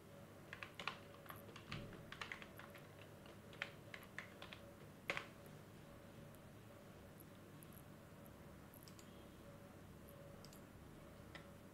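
Computer keyboard keys tapped while an email address is entered, a quick burst of faint clicks near the start and then quiet room tone.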